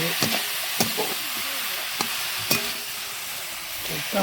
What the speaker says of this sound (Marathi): आता आपण भाजी हलवून जाणार आहे